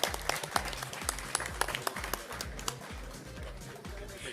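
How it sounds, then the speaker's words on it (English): Applause from the audience at a felicitation ceremony for the Chief Justice of India and a Supreme Court judge: a steady patter of many hands clapping in a hall, with a low rhythmic thumping underneath. "Come on, please, a round of applause"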